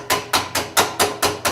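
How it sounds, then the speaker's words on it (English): Hammer blows closing the soldering lip on a copper drain pipe, seven sharp evenly spaced strikes about a quarter second apart, close and loud with no talk. "you take a hammer or object"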